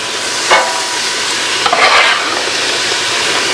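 Onion and carrots sizzle in a soup pot, a loud steady hiss with two brief bursts of stirring scrape, no voices.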